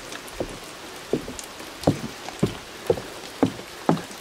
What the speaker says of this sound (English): It's not raining too hard.